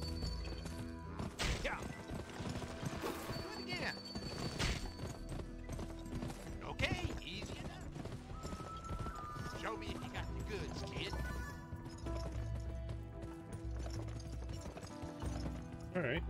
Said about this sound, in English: Oh, alright, let's see you attempt some jumps.